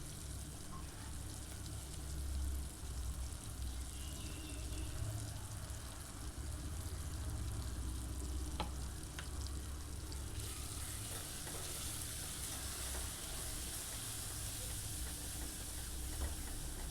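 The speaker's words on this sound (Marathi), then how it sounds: "फोडणीमध्ये हे मिश्रण टाकून घ्यायचं आणि व्यवस्थित मसाला आपला तेलावरती परतून घ्यायचा आहे" A spice mix sizzles while being sautéed in a hot oil tempering for drumstick aamti. The frying goes on as a faint, steady crackle with occasional stirring clinks, and low background rumble runs throughout.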